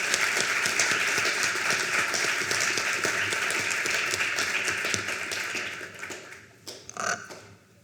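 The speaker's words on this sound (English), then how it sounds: "A round of applause, please, for our panelists." Audience applause for panelists at a business breakfast in New Westminster: dense, steady clapping from a roomful of people that holds for several seconds, then thins and fades toward the end with a few last scattered claps.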